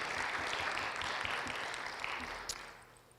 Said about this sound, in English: let's clap for all those who have served during those times